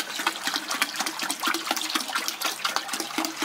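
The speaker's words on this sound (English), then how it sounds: "So, here is my hot water. I'm going to pour in here." Hot water is poured steadily into a bucket, giving a continuous splashing, gurgling stream at moderate level throughout, with no voices.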